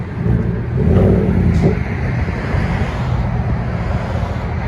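A 2017 Chevy Silverado Z/71 with a 5.3L V8 and straight-pipe exhaust revs once near the start, a loud, close, deep roar that settles back into a steady rumble.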